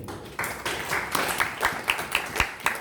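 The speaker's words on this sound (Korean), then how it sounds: "박수 한번 치시죠" Congregation at a military church service clapping in a scattered, uneven round, moderately close and fading in and out rather than a sustained ovation.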